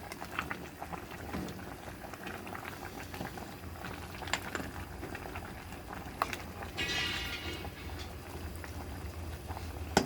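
A pot of dog food with beef bubbling at a strong, continuous boil, dense popping and gurgling up close, with a brief hissy surge partway through.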